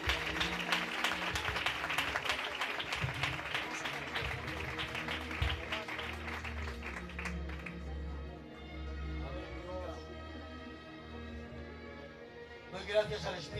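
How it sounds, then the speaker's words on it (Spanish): A church congregation claps during a sermon service, a dense burst of applause for several seconds that fades as organ-like musical tones take over, with faint voices underneath. "damos un aplauso a la palabra de ese"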